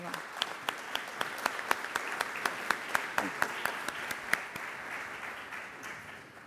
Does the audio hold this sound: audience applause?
yes